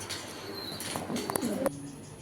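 Fancy pigeons give soft, low cooing calls, faint and close by, over a quiet background.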